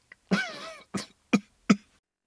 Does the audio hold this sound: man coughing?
yes